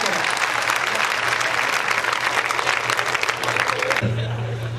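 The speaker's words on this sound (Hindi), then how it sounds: "जोरदार तालियां बजा करके आमंत्रित करें" A large audience claps loudly and continuously, dense applause filling most of the moment before cutting off abruptly near the end into a low hum.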